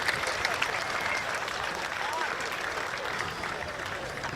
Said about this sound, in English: let's begin with a huge round of applause to both our grand final teams today.